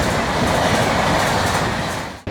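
A train rolls past a station platform on a railway track in Faridabad, a loud, steady roar of wheels clattering on the rails that fills the clip and cuts off abruptly at the end.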